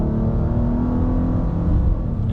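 A 300-horsepower 2020 Nissan Maxima SV with a CVT, driven in sport mode, accelerates with a loud, steady engine rumble and rising drone heard from inside the car.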